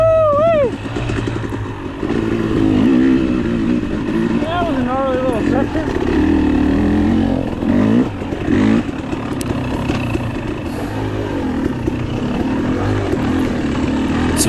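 KTM 300 XC-W two-stroke dirt bike, a 2022 model, racing in a six-hour charity endurance event on open grass track, engine revving up and down loudly up close with a rider talking over it.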